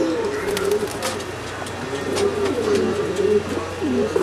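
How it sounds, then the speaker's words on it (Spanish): Pigeons in a loft around the time of their release, cooing in low repeated murmurs close by, with a busy, rustling backdrop and no talk over them. "A ver si la gente se embulla y suelta una paloma."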